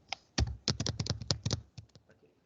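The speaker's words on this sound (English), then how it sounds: "So I have to type so many things," Fingers typing on a computer keyboard while adding user accounts, a quick burst of about a dozen crisp key clicks, close and clear, slowing to a few lighter taps.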